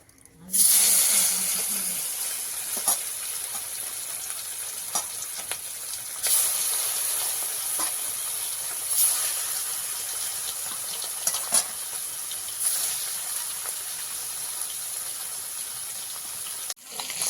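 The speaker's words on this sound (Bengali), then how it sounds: "এবার মাছ ভেজে নেব" Mrigal (rohu-type) fish pieces frying in a kadai, a continuous moderate sizzle and hiss with scattered spatters and utensil knocks, no talking.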